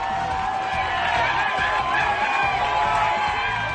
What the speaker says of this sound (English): Jonathan Baines from nearby Plano, Texas, had the hometown crowd fired up